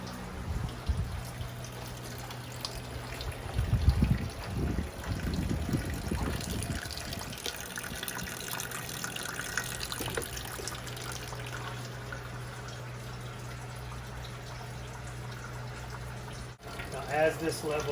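Hot wort is poured back into a lauter tun over a grain bed during home beer brewing, making a steady trickle with a few heavier splashy gushes, with talk in the background.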